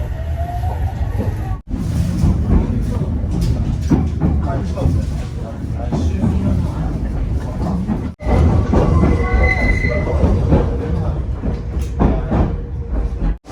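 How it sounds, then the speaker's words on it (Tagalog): Steady rumbling interior noise of a moving passenger train heading toward Motojuku, a continuous loud roar with brief dips, while people talk over it. "andito kami sa loob ng train at papunta kami ng Motojuku"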